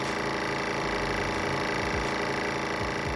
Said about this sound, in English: It'll vacuum as much as it's going to vacuum out, and then you'll see it go to seal.